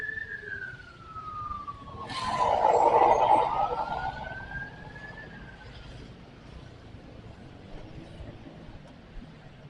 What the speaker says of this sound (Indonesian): Oh ambulan,